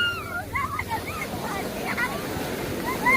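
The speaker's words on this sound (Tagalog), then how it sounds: "Malakas yung alon." Strong ocean waves surge and wash in a steady roar with wind buffeting the microphone, while voices chatter and call out over the surf.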